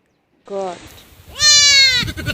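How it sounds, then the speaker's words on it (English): A goat gives a single loud, wavering bleat right after a short spoken word, ending abruptly. "Goat."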